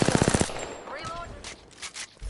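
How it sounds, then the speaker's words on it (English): Automatic gunfire in Apex Legends on PS5, a fast burst of loud close shots at the start, then sparser distant shots and impacts with a brief spoken line in between. "I'm taking shots. Being shot at."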